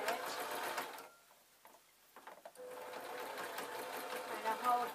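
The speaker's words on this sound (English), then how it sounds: "I'm going to double stitch." A sewing machine double stitches a thick seam while a broom is converted into a mop, whirring in close bursts that stop for about a second and a half midway and then resume steadily.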